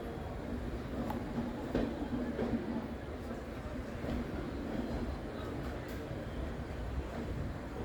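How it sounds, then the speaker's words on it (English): An express passenger train rolls into platform 1 at Calicut station, heard from inside an unreserved second-class coach as a steady rumble and rattle of the wheels with faint clanks throughout. "we are pulling into platform number 1 of Calicut station"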